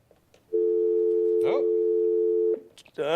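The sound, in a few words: telephone line tone while connecting a radio call-in caller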